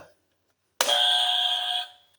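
A game show buzzer for France on a European talent contest sounds once, a sudden harsh, loud electronic blare held for about a second before cutting off, with a brief voice fragment just before it.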